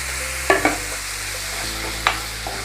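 Chopped tomatoes being stirred into a masala in a pan, with a few distinct scraping clinks of the spoon over a low, steady cooking hiss, close by and with no talk.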